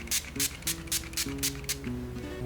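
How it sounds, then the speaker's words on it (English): Makeup setting spray is pumped from a bottle in a series of short, crisp hissing bursts at a steady rhythm, about seven quick sprays in a row, over a low background hum. "The last step in your makeup would be setting spray."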